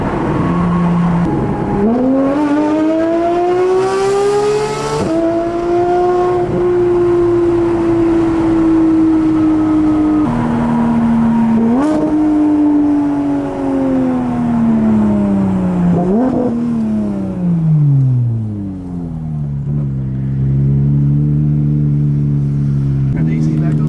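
A straight-piped Porsche GT3 with a JCR exhaust accelerates hard as heard from on board, its loud engine note climbing and dropping through several gear changes, then easing to a lower, steadier drone.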